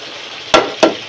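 Fish frying with onions in a pan, a soft steady sizzle broken by two quick, sharp scrapes or stirs close by, one after the other.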